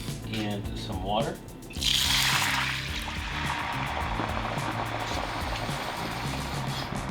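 Water pours into a blender holding cashews in a home kitchen, a brief gurgling splash that swells and then settles into a softer bubbling wash.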